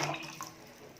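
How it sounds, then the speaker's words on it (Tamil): Tomato-tamarind liquid poured into lentil water for South Indian rasam, a brief soft splashing trickle into the pot, close and fairly quiet. "அது பருப்பு தண்ணியில் ஊற்றிக்கலாம்."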